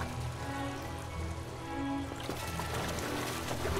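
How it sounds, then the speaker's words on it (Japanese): Water running through a rain-fed sewer channel in Final Fantasy XV, a steady broadband rush and trickle filling the whole stretch, moderately loud and close with no talk over it. "水流れてる。 雨水が集まってるんだろう。"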